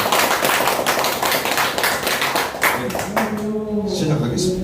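A crowd at a local civic groups' political endorsement event claps to welcome representatives, a sustained burst of hand claps under a speaking voice that fades as the applause dies away.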